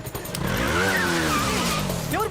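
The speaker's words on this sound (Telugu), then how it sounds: "ఎవరు బైక్ పెద్దగా బయట చూద్దామా?" A loud motorbike passes outside, its engine droning steadily with rising and falling pitch sweeps for about two seconds, fairly close and dominant with no speech.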